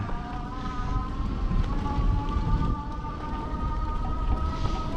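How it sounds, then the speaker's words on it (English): An electric bike rides off road along a rough trail at an expedition camp, its motor whine a steady tonal hum over continuous broadband rumble and wind buffeting, close and unbroken throughout. "It's about as far off road on this e-bike I want to go"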